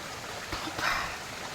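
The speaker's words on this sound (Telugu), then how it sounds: "వాటర్ మంచిగా కారుతుంది" Water at the 7 Wells waterfalls pours over rocks in a constant, close rush with a slight surge midway through a short moment.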